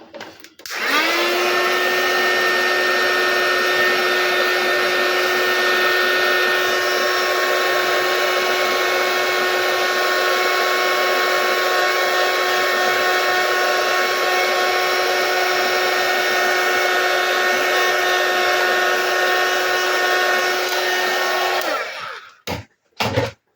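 A heat gun blows hot air over a craft card, a loud steady whirring drone that starts abruptly and runs for about twenty seconds before switching off, with no talk.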